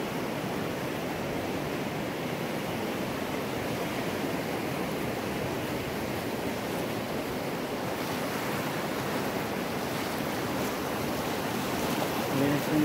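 Ocean waves break and wash onto the beach at Playa La Jucuarana, a continuous loud rushing surf roar with no pauses.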